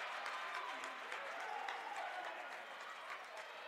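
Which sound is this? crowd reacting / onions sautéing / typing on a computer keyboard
crowd reacting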